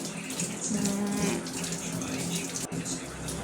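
Water is poured into a pot of torn herb leaves while making a butterfly pea night cream. A steady close pour gurgles throughout, with a voice talking faintly underneath.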